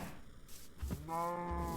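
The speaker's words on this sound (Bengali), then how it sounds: "গরুগুলা জম্বি ঘোড়াটারে ডাকছে সম্ভবত" A cow in the video game Minecraft gives a short, tonal lowing call near the end, preceded by brief low thumps, with no talking.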